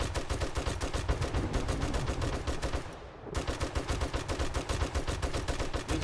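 Weak ammo fires nonstop from a base defense in the winter setting of 7 Days to Die. The dense, rapid shots hammer steadily and loudly, pause briefly near the middle, then resume at the same pace.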